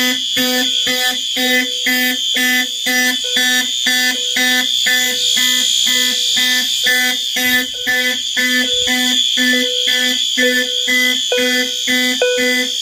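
A fire alarm panel sounding in march-time pattern, a loud, harsh buzzing horn pulsing rapidly and evenly for the whole stretch, close by and with no talking.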